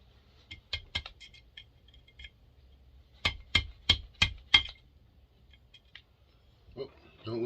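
Metal tapping while prying the key out of a McCulloch 7-10 chainsaw: scattered light clinks, then a quick run of five sharp metallic knocks close by in a quiet room, with a short rustle at the end.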